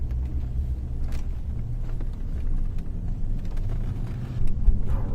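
Steady low V8 engine rumble from a vehicle cruising on highway SR-417, with continuous road and tire noise, loud and close throughout and swelling slightly near the end.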